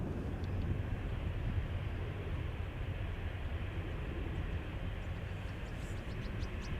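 A KLM Embraer 190 jet departs Amsterdam Schiphol Airport on a flight to Glasgow, a steady broadband engine roar holding level throughout with no voices.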